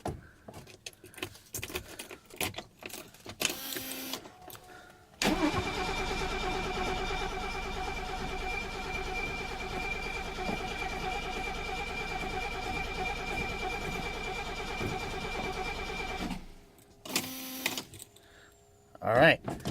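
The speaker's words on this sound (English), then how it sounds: "So, I'm gonna try to cold start the 280S." A 1975 Mercedes-Benz W116 280S cranks in icy, frosty cold, with about eleven seconds of loud, continuous starter grinding that begins and stops abruptly. Brief clatter and talk come before and after.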